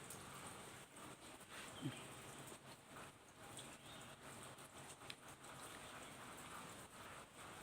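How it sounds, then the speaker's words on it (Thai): Rain falls softly in a steady, faint patter, with scattered louder drops and a brief bird call partway through. "ฝนตกประมาณนี้เลยค่ะ"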